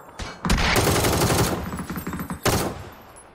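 Gunfire in a shooter video game: several bursts of rapid automatic shots, a sharp opening crack followed by a dense rattling volley, then another crack and fading shots, close and loud.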